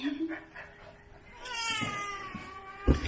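A cat gives a drawn-out, wavering meow in a rural village home, heard close and fairly quiet against soft background noise.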